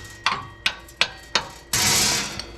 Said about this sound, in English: let's see if we can hammer it off now